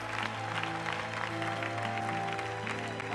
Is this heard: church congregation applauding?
yes